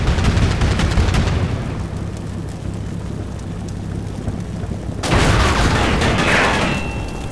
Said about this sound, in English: He's shooting smoke.